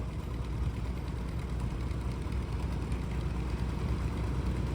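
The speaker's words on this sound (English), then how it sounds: "She's driving an Avery tractor" A 1947 Avery Model A tractor engine running in a heritage weekend parade, a steady low rumble close by with no talk over it.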